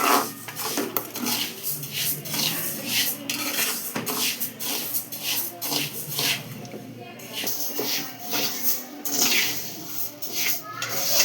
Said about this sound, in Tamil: அடுப்பில் சட்டியை வச்சு அடுப்பில் வறுக்கிறேன்.